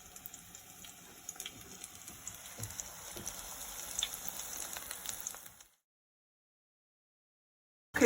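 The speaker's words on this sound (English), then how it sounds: "We're going to leave that to fry for about a minute or so on either side." Okra and plantain tempura frying in hot oil: a faint, steady crackling sizzle for several seconds, then the sound cuts to silence.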